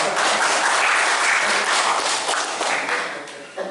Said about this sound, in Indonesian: tepuk tangannya kok gak kompak ya.